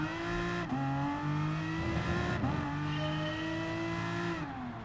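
A big British race car in Gran Turismo Sport revs and accelerates, its loud harmonic engine whine climbing and dropping through several gear shifts. Faint tire noise comes in mid-run, and no one speaks over it.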